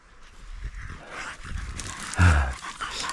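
A dog on a mushroom-hunting walk along a river gives a short bark or huff, with faint panting and rustling outdoors around it.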